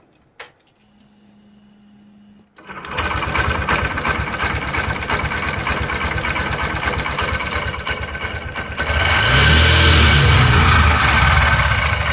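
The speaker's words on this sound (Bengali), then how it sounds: "এরপর আমরা গাড়িটাকে স্টার্ট করব" An SP 125 BS6 motorcycle engine cranks after a quiet pause, catches and settles into a steady close idle, then revs louder near the end, with no talk.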